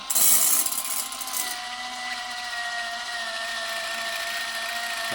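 Cordless mixer from AliExpress whipping cream for a cake, a steady thin whine with a louder clattering start, close and continuous without talk.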